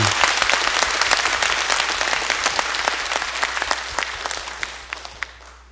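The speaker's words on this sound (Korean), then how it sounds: "이 시간 하나님께 영광의 박수 한번 드리겠습니다." A church congregation at a mission dedication service applauds in praise of God, a loud, dense burst of many hands clapping that holds steady and then gradually thins and fades toward the end.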